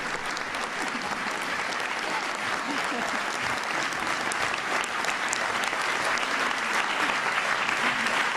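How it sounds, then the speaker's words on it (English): Sustained audience applause from a large crowd at the First Lady's farewell speech, loud and even throughout with a bright, dense texture of many hands clapping, no voices rising above it. "So let's give them a round of applause."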